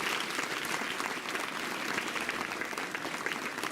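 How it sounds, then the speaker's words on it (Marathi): Audience applause at a school event honouring newborn girls and students, a dense, even patter of many hands clapping continuously throughout. "आता टाळ्या वाजवा."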